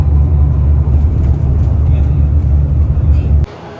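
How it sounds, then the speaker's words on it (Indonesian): Steady low hum and rumble from the undercarriage of a Harapan Jaya VIP-class bus on the road, continuous and fairly loud, cutting to a quieter cabin near the end. "di bagian kaki-kaki bisnya tuh bunyi, mendengung gitu"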